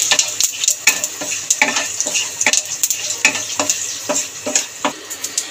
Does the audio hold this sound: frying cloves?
yes